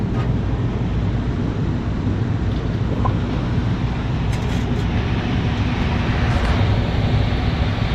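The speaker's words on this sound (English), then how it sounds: "Looks like the blower's running," Furnace blower fan running steadily in a twinned furnace setup, a constant broadband whoosh and low rumble that holds at an even level throughout, with no voices.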